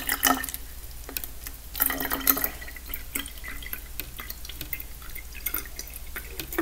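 Water spills and drips onto a plate while a lava lamp is being filled, a scatter of quick splashy drips and small trickles, close and irregular, over a quiet background.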